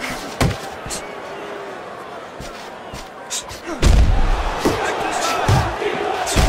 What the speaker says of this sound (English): he lands a nice counter punch